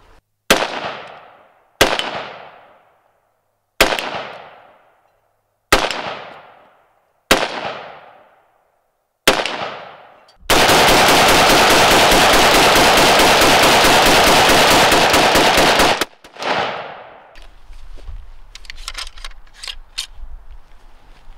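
A 5.45 carbine fires Russian surplus rounds at a steel target 50 yards away: six evenly spaced loud single shots with ringing decay, then a long sustained burst of rapid fire, followed by scattered quieter rattling.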